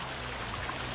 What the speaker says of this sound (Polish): Jakiś wodospad,